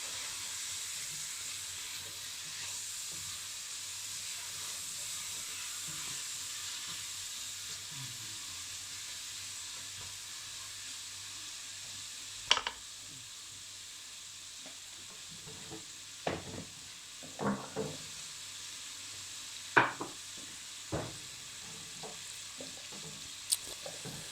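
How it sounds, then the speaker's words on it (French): Onions frying in a pan, mussels-and-fries cooking, give a steady broadband sizzle throughout, with several sharp clacks and scrapes of stirring in the second half, close and alone with no voices. "on commence à remuer les oignons"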